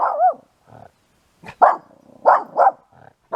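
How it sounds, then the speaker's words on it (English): A dog barks in a yard at a junkyard or salvage yard near Heron Lake, New Mexico, giving an irregular run of loud, close barks with a few softer yips and growls between them. "What are you barking at?"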